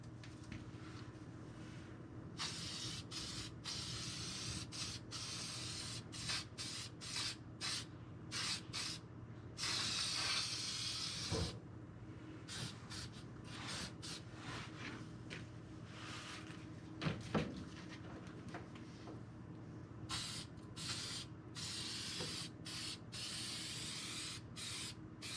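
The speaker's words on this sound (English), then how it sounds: "let's get some spray on there" Repeated short hissing bursts of an aerosol spray can lay a heavy coat onto a 1958 Plymouth trunk floor, alternating with brief pauses plus one longer spray, moderately close and fairly faint.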